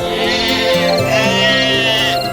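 A flock of sheep bleats loudly and close, with overlapping wavering calls that run steadily with no pause.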